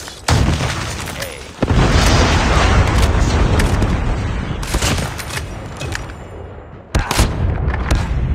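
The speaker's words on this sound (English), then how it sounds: "Predator missile inbound." A predator missile strike in Call of Duty Mobile lands as heavy booming explosions with rumbling blasts and gunfire-like crackle, loud and close, swelling in several waves.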